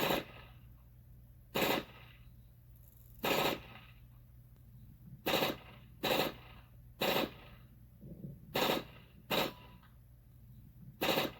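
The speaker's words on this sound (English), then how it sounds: "Here's a video showing that the M1, even in the M2 fashion, doesn't automatically just spread like that." An M1 carbine fires in M2 full-automatic mode, heard as a series of about nine short, sharp bursts spaced a second or so apart, each standing out against a quiet background.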